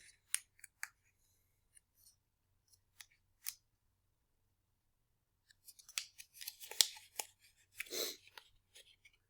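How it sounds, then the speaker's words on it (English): Scissors snip through folded paper along marked X lines for a money jar craft: scattered sharp cuts early, then a denser run of close, crisp snips and rustling near the end, with quiet gaps between. "now I'm going to have to cut on the next X line"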